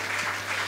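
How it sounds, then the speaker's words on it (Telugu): Church congregation applauding in praise during a Telugu Christian sermon, a brief steady wash of clapping under a constant low hum, with no voices over it. "చప్పట్లు కొట్టి స్తోత్రం చెప్తాం"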